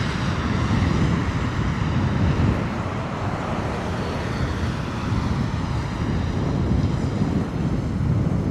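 Qatar Airways Boeing 777 on approach to land at London Heathrow in wet, windy weather, a steady broadband roar of jet engines mixed with heavy wind buffeting the microphone, continuous and fairly loud throughout.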